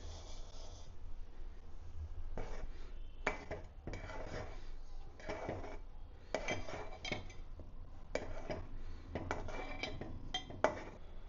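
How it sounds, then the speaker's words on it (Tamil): Sugar being tipped and stirred into reduced milk in a pot while making kulfi, with intermittent clinks and scrapes of a spoon against the metal pot over a steady low background hum. "இப்போ பார்த்தீங்கன்னா இதில் நம்ம 1/2 கப் சர்க்கரையை போட்டுக்கலாம்."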